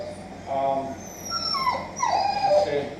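A stressed dog whimpers close by in a series of high, wavering whines that rise and fall, growing more insistent toward the end, with faint background noise underneath.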